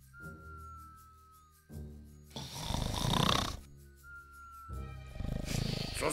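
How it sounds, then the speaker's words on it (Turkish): Loud cartoon snoring from a sleeping character, two long rumbling snore cycles each ending in a raspy roaring inhale-exhale, with a thin whistle tone between them; nothing else is heard. "Bu nasıl bir horlama, gök gürlüyor sanki."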